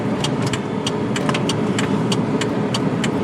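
A 2000 Chevrolet Impala fitted with new brake pads cruises along, its steady engine and road noise continuous and close, with a few faint high-pitched squeaks or ticks scattered throughout.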